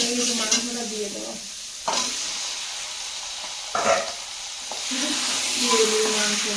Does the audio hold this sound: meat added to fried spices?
yes